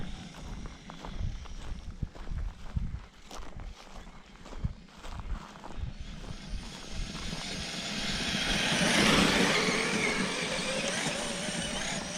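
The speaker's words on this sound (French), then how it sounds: "Un tracteur, monseigneur." A tractor passing in the French countryside, its rough engine growing louder and broader as it nears over the last few seconds, following scattered close crunching footsteps and handling noises.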